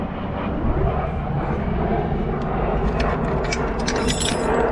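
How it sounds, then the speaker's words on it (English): A fixed-wing airplane flying overhead makes a broad, steady roar that holds loud throughout, set among outdoor ambience with faint clinks and no talk. "Look, there's a plane."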